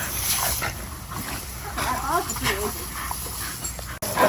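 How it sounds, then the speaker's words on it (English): Puppies play together, letting out high wavering whimpers and yips over a continuous background hiss, while people talk nearby. "Still going crazy though. Crazy pups."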